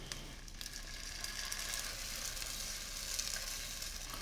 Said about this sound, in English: I'm adding a 28-ounce can of crushed tomatoes